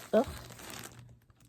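Plastic packaging around a skein of Red Heart yarn crinkles close to the mic in a short, loud rustle, followed by about a second of softer crackling handling noise.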